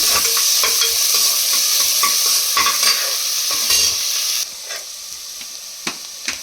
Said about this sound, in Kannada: ಈರುಳ್ಳಿ ಅದನ್ನು ಸೇರಿಸ್ಕೊಂಡಿದ್ದೀನಿ ಅದು ಸ್ವಲ್ಪ ಕೆಂಪಗಾಗುತ್ತೆ ಅಂತ ಫ್ರೈ ಮಾಡ್ಕೊಳ್ಳೋಣ